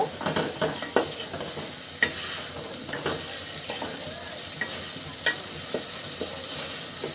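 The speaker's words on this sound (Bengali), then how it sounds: "মাংসার মশলাটা খুব ভালোভাবে মিশিয়ে নিব" Beef pieces coated in spices being stirred in a pot, with repeated scraping clacks of a spoon at an uneven rhythm over a steady soft sizzle, close and fairly clear, no talking.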